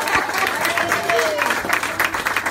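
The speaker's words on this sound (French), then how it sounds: "Ouais, on applaudit Bertrand." Applause from an improv theatre audience, a steady crowd clatter with some voices mixed in, held at an even level for the whole stretch.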